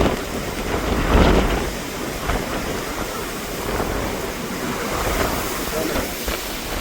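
Heavy cyclone storm waves crash and surge in loud, rushing bursts in Jaffna, with a constant roar of churning water between the surges.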